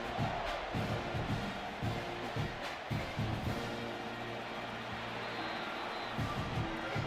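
A stadium crowd in a college football video game roars and cheers steadily at a moderate distance, with a rhythmic thumping of music or stomping underneath, and no talk.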